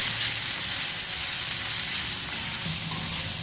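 Finely chopped onion sizzles steadily in hot oil in a pan for an egg masala, a dense continuous crackling hiss, close and fairly loud, with faint low scraping as it is stirred and no voices.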